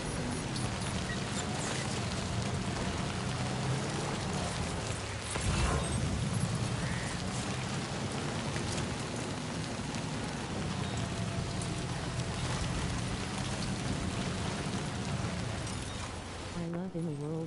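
Steady rain falling in the video game Death Stranding 2, a continuous hiss at moderate level with a brief thump partway through, under faint game sounds.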